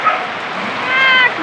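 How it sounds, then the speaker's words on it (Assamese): A dog yelps and whines in high, drawn-out cries during rainfall, with a soft wash of rain underneath. "কুকুৰটোৱে চিঞৰিব লাগিছে বৰষুণ দেখাব"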